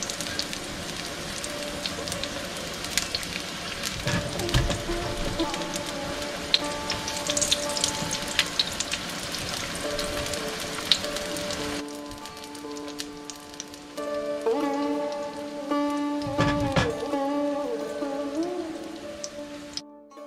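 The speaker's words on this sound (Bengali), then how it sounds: "খুব অল্প তেলেই ভাজা হচ্ছে" Steady crackling sizzle of a paratha frying in a little oil over low heat, continuous and close, with a few clinks of utensils partway through.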